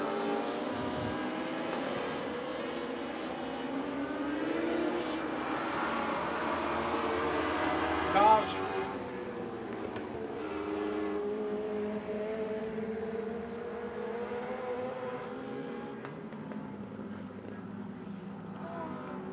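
Mini stock front-wheel-drive race cars roar around Crossville Speedway in a feature race, a steady layered engine drone with passing cars rising and fading, one brief louder burst near the middle.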